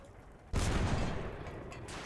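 A tank gun firing in World of Tanks, one sudden loud blast that booms then decays into a sustained rumble, with a fainter follow-up thud near the end.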